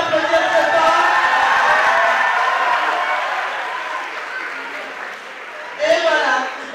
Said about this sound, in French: On peut applaudir Sopa